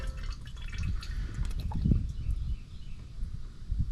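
Oil dripping from a 2009 second-generation Toyota Sequoia during an oil change, irregular drips and small splashes close by over a low rumbling background.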